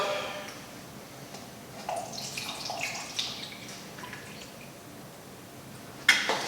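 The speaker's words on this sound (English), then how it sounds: "So here's our nice, beautiful distilled water. Let's pour that into our cup." Distilled water pours into a cup, a soft trickling splash that rises gently and fades, ending with a sharp clink near the end.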